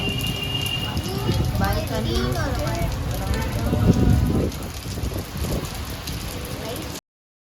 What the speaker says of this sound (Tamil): கொஞ்ச நேரத்தில் மழை அதிகமாக வந்துருச்சு